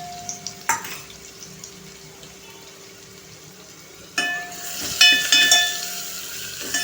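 A ground chili and garlic paste sautés in a pan over a low flame, giving a steady soft sizzle, with a few clinks of a spoon against the pan and a louder burst of stirring and spattering near the end.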